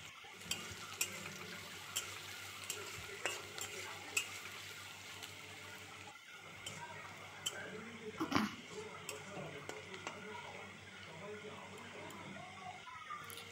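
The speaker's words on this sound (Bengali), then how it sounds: "এবার পেঁয়াজটা ভালো করে নেড়ে চেড়ে নেওয়ার পর পেঁয়াজটা যখন ভাজা ভাজা হয়ে যাবে" Onions fry in a pan while being stirred, a faint low sizzle dotted with light scraping clicks, quiet and close, with a voice talking over it.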